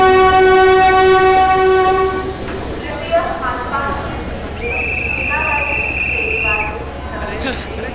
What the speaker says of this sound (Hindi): मुंबई जाने के लिए जोधपुर मुंबई एक्सप्रेस।